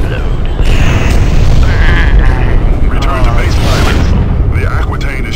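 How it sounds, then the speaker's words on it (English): A ship exploding in the space combat game FreeSpace 2, heard as a loud, sustained booming roar with rumbling debris and crackle lasting several seconds; a voice talks over it. "Let's watch it explode."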